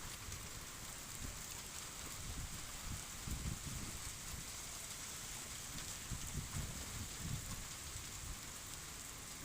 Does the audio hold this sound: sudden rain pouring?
yes